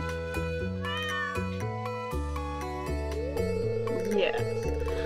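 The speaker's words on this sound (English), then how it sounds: "What a beautiful cat you have with you." A cat in the Stardew Valley video game gives a meow over the game's plucky background music, with a game voice talking near the end.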